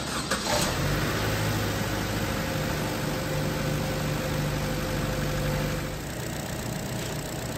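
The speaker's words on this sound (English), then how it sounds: "fire up the car." A car is fired up with a pressure tester fitted on the radiator and degas bottle for a cooling system check; the engine catches almost at once, then idles in a steady, loud, close hum.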